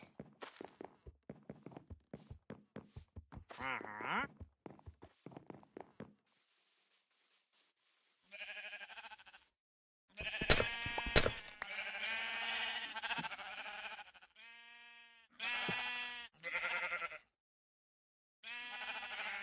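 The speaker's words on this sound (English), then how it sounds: "Two more white sheep and we're done with them." Sheep bleat in the RealmForge video game, several loud, nasal calls in bursts between clicky footstep-like taps and quiet stretches, with no talk over them.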